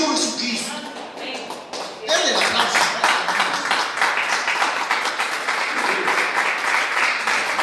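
Church congregation applauding during a Spanish-language sermon, a sustained wash of clapping that swells loudly after a brief lull and carries on steadily with voices mixed in.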